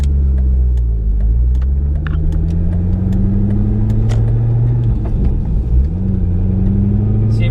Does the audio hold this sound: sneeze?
no